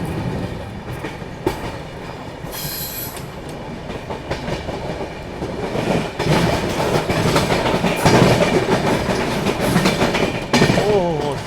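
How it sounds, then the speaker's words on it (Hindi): A train pulls through Kanpur Anwarganj railway station with rhythmic clickety-clack of wheels on the track, loud and close, rising in intensity toward the end, with little else over it. "ओह जबरदस्त ट्रैक साउंड।"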